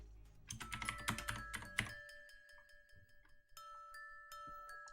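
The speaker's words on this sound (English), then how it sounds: "hope the keyboard clacks aren't too loud" Computer keyboard clacking during typing for a frog-themed game session, a dense burst of rapid keystrokes up front that thins to scattered clicks, close and fairly loud, over a steady tonal hum with no talking.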